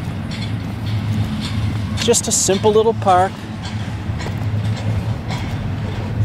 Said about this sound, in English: There's the freight train going by again.